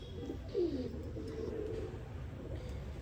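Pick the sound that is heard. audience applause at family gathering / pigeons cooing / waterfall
pigeons cooing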